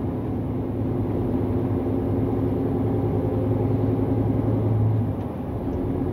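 A farm truck's engine hums steadily at medium distance, a continuous low rumble that swells slightly near the end, with no talking.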